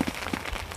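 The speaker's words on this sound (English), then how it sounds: "so it's really raining now" Heavy rain falls at a carp fishing lake, a dense steady patter of drops close by, filling the short moment with no voices.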